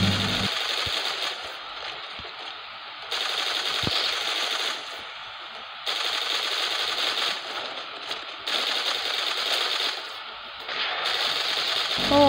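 Rapid automatic gunfire in the Frag battle game as a base comes under attack, dense bursts of crackling shots in several sections separated by brief lulls, steady and fairly loud with no talk.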